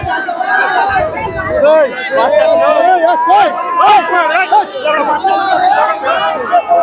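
A packed evening crowd at a fair in Bagnan, many voices chattering and calling at once in a loud, close, continuous babble.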